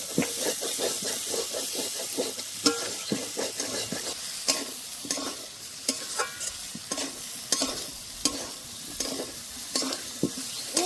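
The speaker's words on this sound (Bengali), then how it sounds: "আবারও বেশ কিছুক্ষণ কষে নেব" Soybean curry spices with chili powder sautéed in a pan: a steady sizzle with repeated stirring scrapes and taps at an uneven rhythm, close and clear, with no talking.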